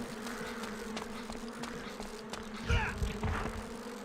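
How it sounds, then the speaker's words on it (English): Wasps in the survival horror game Resident Evil Outbreak File 2 give off a low, continuous insect buzz with a faint drone beneath it and a few thumps near the end. "sounds like we got some wasps"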